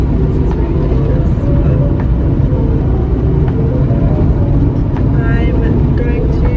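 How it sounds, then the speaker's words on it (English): A car being driven, with steady low road and engine rumble filling the whole stretch and occasional faint voices in the background. "I'm driving."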